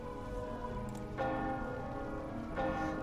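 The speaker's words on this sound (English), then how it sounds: "The bells rang louder and more fervently." Church bells ring in two distinct strikes, each leaving a long resonant hum that lingers over a soft patter like rain, with no speech.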